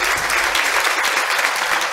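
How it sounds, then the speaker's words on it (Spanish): An audience claps loudly and steadily at a public event honoring an organizer, a dense, close wash of applause with no break. "Un aplauso para ella"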